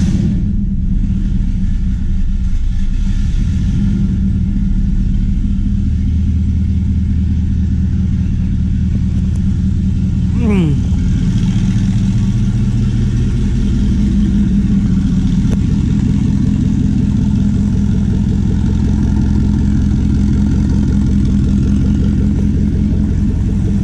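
A car engine starts up and settles into a steady idle, a low, even rumble that runs close and moderately loud for the whole stretch, with no talking over it.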